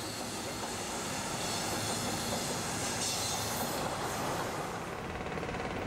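A DB class 112 electric locomotive in orient red with a bib front hauls a train along the Berlin Stadtbahn, giving a steady loud rumble of wheels on rail with hiss and faint squeal, continuous throughout with no talk.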